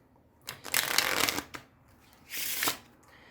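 A deck of playing cards is shuffled by hand in two distinct bursts, the first longer riffle followed after a short pause by a second, crisp and close with a quiet room behind.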